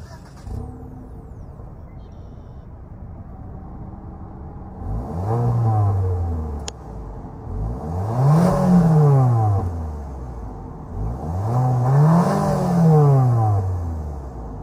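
A 2022 Mitsubishi Eclipse Cross with a 1.5 liter turbocharged engine starts up, then revs three times in rising and falling sweeps over a steady idle, close and loud with no talk.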